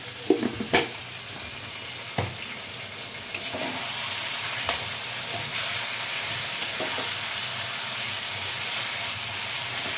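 Fried catla fish heads sizzle steadily in a hot pan with spices, with a few scraping stir strokes early on, then a loud, continuous frying hiss with no talking.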